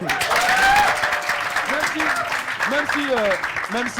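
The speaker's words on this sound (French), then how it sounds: "on applaudit" Audience applause at a film screening and debate, steady clapping from a seated crowd, with voices and chatter rising over it throughout.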